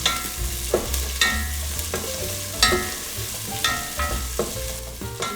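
Sweet yellow onion frying in a pan for a Filipino chicken sopas, a steady sizzle broken by regular scraping stirs and spoon knocks, close and fairly loud, with no talking.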